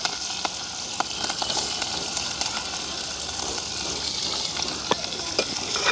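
Sliced onions and green chillies frying in hot oil after mustard seeds in a village kitchen, a steady close sizzle with occasional sharp pops and crackles throughout, no talk.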